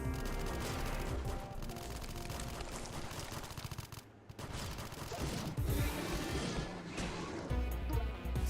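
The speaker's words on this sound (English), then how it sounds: "Hey! Hey, listen! Gunfire!" Rapid, dense bursts of gunfire crackle almost without pause, loud and close, with a brief lull midway before the shooting resumes, in a Metroid video game firefight.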